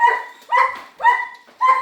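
Puppies barking indoors, four short high yips spaced about half a second apart, close and fairly loud with quiet gaps between them.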